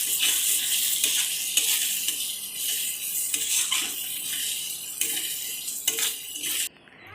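Spice paste for chicken curry, with Kashmiri chili, fries in hot oil with a steady close sizzle, while a spoon or spatula scrapes and clinks against the pan at intervals throughout.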